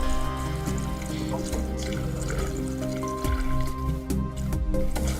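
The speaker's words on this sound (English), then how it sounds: "start pouring the flush compound" Flush compound pours into a motorcycle radiator during a cooling-system flush, giving a steady, close, gurgling liquid stream that runs the whole time beneath a constant mechanical hum, with no talk.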